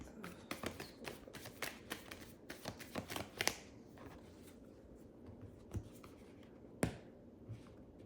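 Tarot cards are shuffled close by in quick riffling bursts and taps, busy at first and then thinning to a few isolated snaps and flicks, quiet overall.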